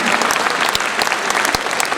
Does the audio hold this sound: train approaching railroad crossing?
no